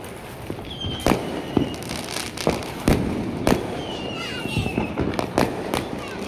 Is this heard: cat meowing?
no